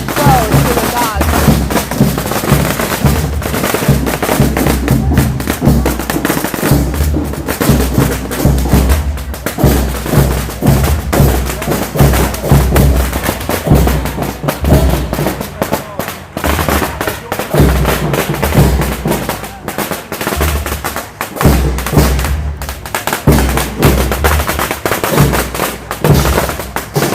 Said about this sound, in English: So loud, firecrackers at the best.